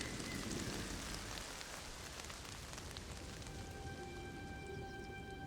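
Steady, dense rain with large raindrops falling during a thunderstorm, a constant wash of patter at moderate level with no distinct thunder claps.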